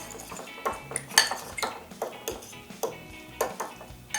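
A utensil stirs two eggs into canned tuna in a bowl, making a string of light clinks and taps against the dish at an uneven rhythm, close and fairly quiet, with no talk.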